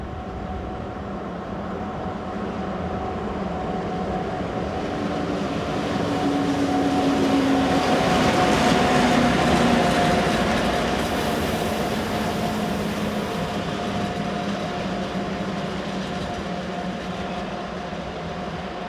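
Austrian locomotive 1144-068, a light banking engine on the Semmering Pass route, gives a steady rumbling roar with a sustained electric whine that swells to a peak mid-way and then slowly eases off.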